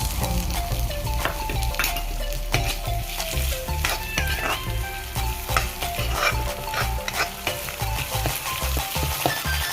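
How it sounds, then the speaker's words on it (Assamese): Onions frying in oil in a pan for an Assamese-style egg curry, a steady loud sizzle with repeated stirring scrapes and clinks throughout, no voices. "তেলখিনি এৰিছে পিঁয়াজৰ পৰা আৰু ফ্ৰাই হৈ আছে।"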